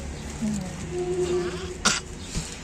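A single short cough near the end of a brief stretch of background room noise, with a faint tonal hum and a softer second catch afterward.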